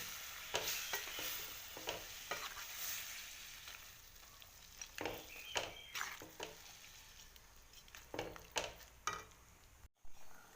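Khara pongal with rice and turmeric is stirred in a pot, with close, irregular scrapes and clatters of the spoon over a soft sizzle, the strokes coming in uneven bursts.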